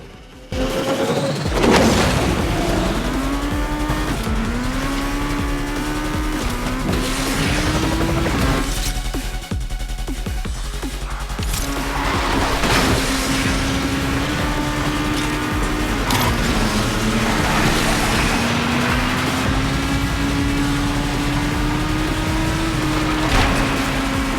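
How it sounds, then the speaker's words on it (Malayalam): Asphalt 9 racing game audio played on a Realme Narzo 20A phone: engine notes rise and fall with gear changes, mixed with booming impacts, clunks and a music bed, loud and continuous. "ഇനി നമ്മൾ Asphalt9 എന്ന റേസിംഗ് ഗെയിമാണ് നർസോ 20Aയിൽ കളിക്കാനായിട്ട് പോകുന്നത്"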